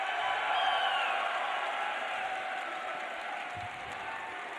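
A live esports event crowd cheers and applauds for the Singapore Sentinels, a broad, sustained roar that slowly fades a little over several seconds.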